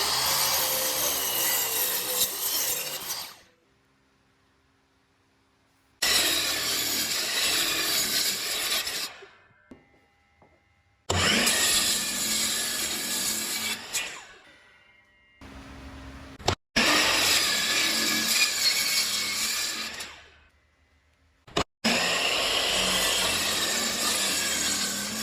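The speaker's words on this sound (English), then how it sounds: "Let's go ahead and get each of these pieces cut out." Hand sawing through walnut and ash wood pieces for a headset stand, in four long loud bursts of steady back-and-forth strokes separated by short pauses, with no talk.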